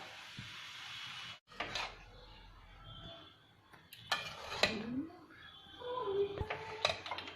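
Cooked rice being mixed in a pan for fried rice, giving scattered scraping and clinking of a utensil against the pan with quiet gaps and soft kitchen background noise.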